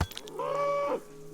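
A single long cow moo from the game Rising World, a drawn-out harmonic low call lasting about half a second, fairly close and clear with no talk over it.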